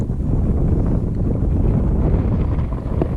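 Steady gusty wind at a mountain lake on a trail, buffeting the microphone with a low continuous rumble throughout, close and fairly loud, with no voices.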